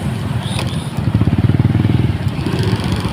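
Motorcycles in a long traffic line, heading toward Lapu-Lapu from Mandaue, with a close engine putting out a steady pulsing rumble and a continuous drone of other bikes behind it.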